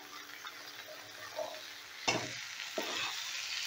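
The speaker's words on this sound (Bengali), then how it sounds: "এবারে এই সবজিটাকেও মিনিট 5-এর মতন ভালো করে আমি ভাজা ভাজা করে নেব।" Pumpkin, eggplant and peas frying in a pan: a steady soft sizzle throughout, with a couple of sharp scraping clatters from stirring.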